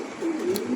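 A pigeon at a pigeon breeding farm gives a single short, close, low coo.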